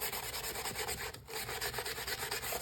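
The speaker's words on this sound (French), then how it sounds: "au bout du compte, j'ai utilisé une brosse métallique" A wire brush scrubs old collar material off a Toyo Field 45A camera bellows frame, making rapid, rhythmic, close, loud rasping strokes with a brief pause midway; no talk.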